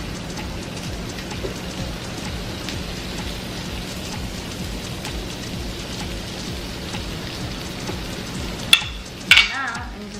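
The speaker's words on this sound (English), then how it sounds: "Do you hear that sizzle?" Paneer pieces sizzling on a grill while cooking a grilled paneer sandwich, a steady crackling hiss throughout with a couple of brief louder clatters near the end.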